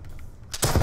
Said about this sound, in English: It appears we have an infestation of Gatling guns